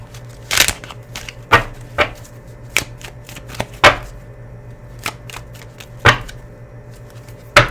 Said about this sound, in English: I'll shuffle it a little bit more just to make sure the cards are clear